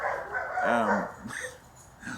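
Several dogs bark outdoors at night, a cluster of loud overlapping barks followed by a few scattered yips further off, with faint background noise between them.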